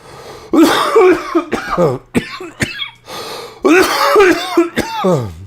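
Harsh, raspy coughing fits up close, several rough bursts with throat-clearing and gasping breaths between them.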